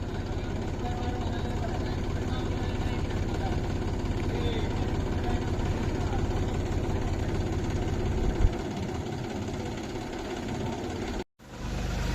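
A tractor moving sheep during a flood in Gopalpur, Hanumakonda, idles and chugs steadily with a low, continuous rumble, with voices faintly mixed in and a brief dropout near the end.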